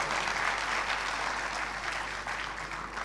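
Audience applause greets an honored guest at a Gujarat state service committee gathering, a dense, steady roar of many clapping hands that holds loud and continuous throughout, with no voices standing out.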